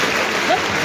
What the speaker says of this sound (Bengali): জোরে করতালি হবে